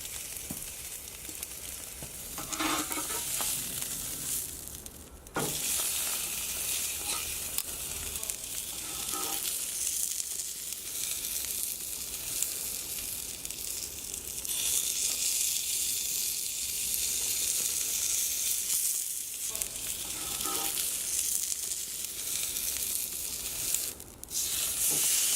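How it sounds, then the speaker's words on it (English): Skirt steak sizzling on a hot grill, a loud, steady hiss and crackle that runs throughout with a few brief scrapes and clunks along the way. "place the steak on the grill for 3 to 4 minutes per side"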